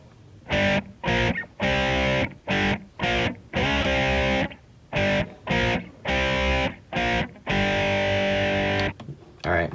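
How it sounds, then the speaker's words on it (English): Distorted electric guitar tracks recorded without a computer, playing loud chugging chord bursts in stop-start rhythm with short gaps between phrases, alone with no talking. "Then I went ahead and recorded the guitars."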